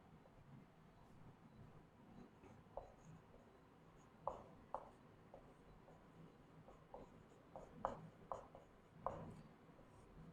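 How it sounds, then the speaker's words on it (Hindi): Pen on paper as a heading is handwritten, a steady quiet scratching with short strokes and occasional sharper taps, close up and faint, with no talk. "आज हम अपना हेडिंग लिखते हैं सबसे पहले"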